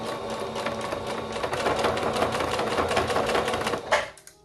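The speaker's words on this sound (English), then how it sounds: "So we're gonna edge stitch all around here, just make sure we're covering up the seam." A sewing machine runs steadily while edge stitching around a seam on a knit romper, a loud, close, continuous whir that stops abruptly near the end.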